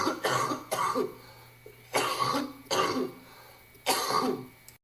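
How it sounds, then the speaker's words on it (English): Person coughing in a series of harsh, wet bursts, about five coughs in two-and-three pairs with short pauses, close and fairly quiet, no talking. "Your cough is gross."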